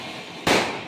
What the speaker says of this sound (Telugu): ప్రవీణ్ రే జాగ్రత్త, బాంబులు